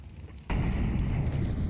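An incendiary grenade in Counter-Strike 2 bursts abruptly into a loud, sustained roaring blaze as flames spread across rooftops.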